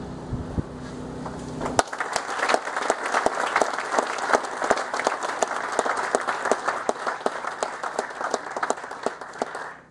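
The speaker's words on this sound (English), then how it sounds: "How about a round of applause and thanks to all of our speakers." Audience applause at a solar energy seminar after the speakers are thanked, a dense wash of many hands clapping that starts after a short lead-in and carries on steadily at close range.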